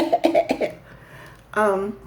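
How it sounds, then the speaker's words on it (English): A quick burst of several sharp coughs up close, followed by a short pause and a strained, voiced throaty cough. "I cough inside my shirt."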